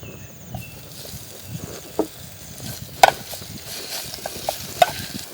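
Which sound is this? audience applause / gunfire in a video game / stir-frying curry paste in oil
stir-frying curry paste in oil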